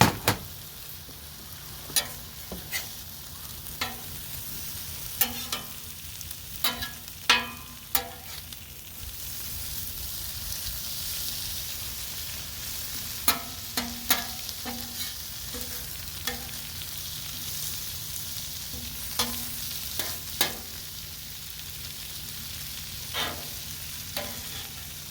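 Corned beef sizzles steadily in a frying pan, a soft continuous crackle dotted with sharper pops and occasional clicks of the pan, heard close and with no talking.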